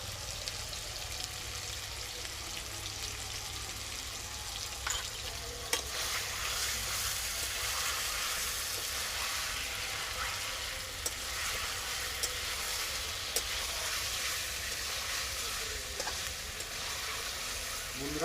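Chicken frying with garlic in a pan, cooked home-style: a continuous, even sizzle with occasional light clicks from stirring, moderately close and steady throughout.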